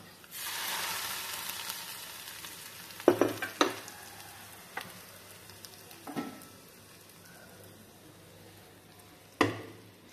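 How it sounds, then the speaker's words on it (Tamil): Curry leaves and urad dal tempering poured into chayote kootu, a brief burst of sizzling near the start that fades to a soft crackle, with a few clinks and stirring knocks, no talking. "இது கூடவே கொஞ்சமா கருவேப்பிலை சேர்த்துக்கலாம். இப்போ இதை கூட்டோட ஊற்றிடலாம்."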